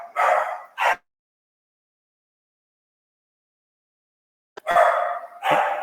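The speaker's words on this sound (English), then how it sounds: "sorry about the dog" A dog barks twice nearby at the start, then after a few seconds of silence barks twice more, loud and close.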